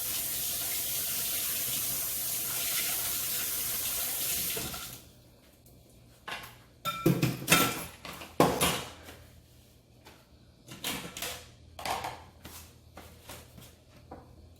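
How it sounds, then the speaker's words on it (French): A kitchen tap runs steadily for about five seconds as hands are washed, then stops, followed by scattered splashes, drips and clattering bumps at the sink, close by and with no talk. "Je vais laver les mains."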